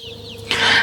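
Newly arrived day-old native Indonesian kampung chicks delivered from a breeding farm, giving a burst of loud, close, high chirping and clucking that swells in the second half over a steady low hum.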